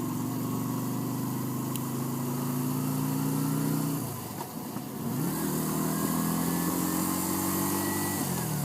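A motorcycle engine hums steadily, then its pitch drops sharply and briefly falls away before climbing again into a sustained, rising drone, heard fairly close with no talk.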